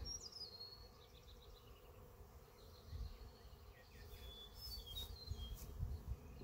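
Honeybees buzz busily around the opening of a hive fitted with a new deep super, a steady droning hum with individual insects passing close and fading, carrying on alone without talk.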